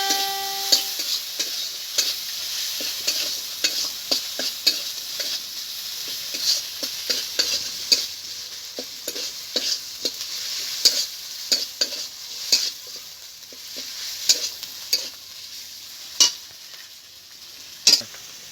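Spices and chopped tomato stir-fried together in a pan for a vegetarian aubergine and potato dish, heard as a steady close sizzle broken by repeated scraping, clinking stirs of a utensil against the pan.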